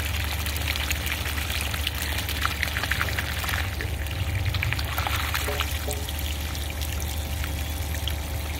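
Water pours steadily out of a filter barrel, a constant close splashing flow that runs unbroken from start to finish with no talking.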